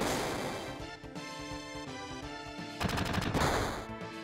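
A needle gun fires during a Final Fantasy 7 battle, rapid bursts of repeated mechanical shots in a fast rhythm that sit over game music and grow louder toward the end.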